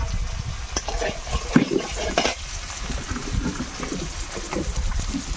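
Oil is poured into a hot pan for frying, giving a close, steady crackling sizzle with occasional utensil knocks and scrapes.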